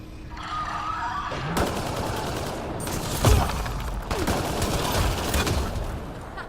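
Bursts of rapid gunfire in the sci-fi shooter Mass Effect Andromeda, with sharp loud shots and a heavy impact near the middle over a constant dense battle backdrop.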